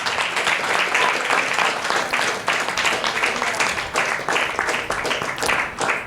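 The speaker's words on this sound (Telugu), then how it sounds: "చప్పట్లు కొట్టి దేవుని నామమును మహిమపరచండి." A church congregation claps together during a worship service, a loud, sustained wash of hand claps with a loose rhythm and voices mixed in.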